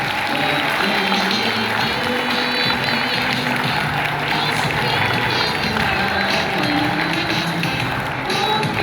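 A church congregation applauds and cheers at an Easter Sunday resurrection celebration, a dense, steady wash of clapping and crowd noise filling the room from start to finish.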